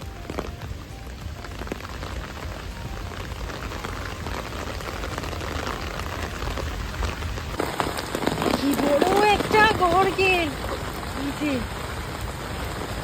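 Steady rain patters on a surface with gusty wind, a voice speaking briefly partway through.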